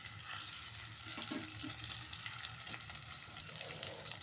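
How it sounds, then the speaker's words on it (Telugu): Eggs coated with turmeric frying lightly in hot oil, giving a low, steady sizzle with a few faint scraping stirs and no talking. "అలాగే గుడ్లు కూడా లైట్గా వేపుకోవాలి."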